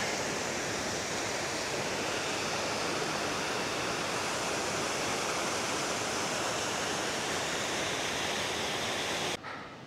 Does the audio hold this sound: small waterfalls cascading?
yes